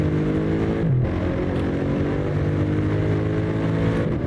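A Mercedes SLS driven in the Assetto Corsa racing game holds a loud, steady exhaust drone with a brief gear shift near the start, then keeps a constant engine note throughout with no one talking.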